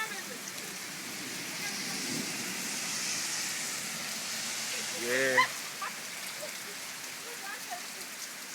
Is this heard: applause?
no